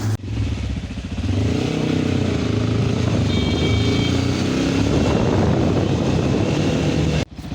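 A motorcycle engine runs loud and steady for about seven seconds, a continuous throaty drone on a foggy road trip from Sialkot to Rohtas Fort, then cuts abruptly near the end.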